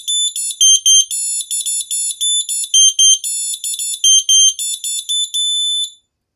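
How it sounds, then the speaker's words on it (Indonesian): A Basuri V3 three-trumpet telolet bus horn sounds in a quick, loud series of high tonal melodic blasts, with short gaps between notes and no talking over it. "ini untuk menekan klakson"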